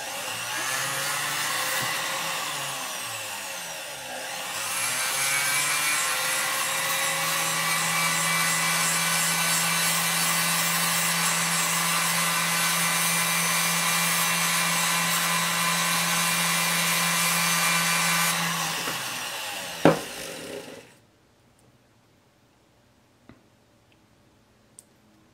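A rotary tool fitted with a grinding bit whines at a steady high pitch while grinding down jewelry material, running close and loud for about fifteen seconds before it winds down and stops, leaving near silence with a couple of faint clicks.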